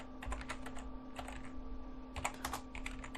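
Computer keyboard keys are pressed in short, irregular bursts of close, crisp clicks over a steady electronic hum, ending with single key presses, and no one speaks.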